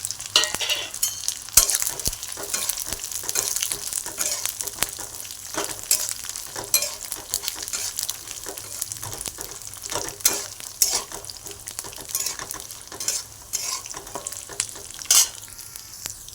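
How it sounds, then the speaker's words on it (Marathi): Roasted peanuts tossed in a little hot oil sizzle softly while a spoon stirs them in quick, irregular scrapes and rattles, close and continuous throughout. "आपण जे शेंगदाणे भाजून घेतले होते ते परत तेलात थोडेसे भाजून घ्यायचे"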